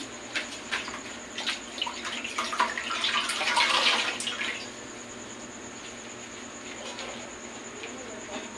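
Water splashes and trickles from a cloth or basin while skin is rinsed during a bed bath, with a louder burst of splashing mid-way before fading to quiet drips.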